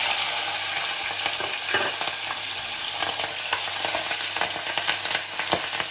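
Steady, loud sizzling of green chilies frying in hot oil with asafoetida, continuous throughout with occasional crackles and stirring, no talking.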